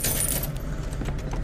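Coins clinking out of a vending machine in the video game BioShock 2, a brief close metallic jangle and rattle lasting about a second.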